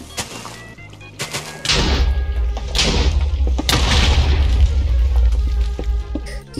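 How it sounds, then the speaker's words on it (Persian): TNT blasts in a Minecraft Bed Wars match: a sudden loud boom followed by a sustained, dense low rumble with further thuds and bursts layered on top, filling the rest of the passage. "صدا TNT میاد"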